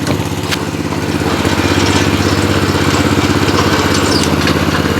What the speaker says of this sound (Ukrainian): мотокультиватор досить гарно заводиться, досить гарно вмикаються швидкості